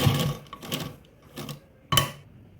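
A sewing machine stitches lace onto palazzo trousers in four short, separate runs of stitching, each burst close and moderately loud, with quiet pauses between.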